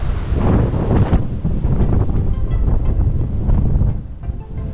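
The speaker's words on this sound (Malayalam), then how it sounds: "ഇവിടെ ഭയങ്കര കാറ്റാണ്" Strong wind buffets the microphone at Thooval waterfall, a loud, continuous rumbling roar with gusty surges and no speech.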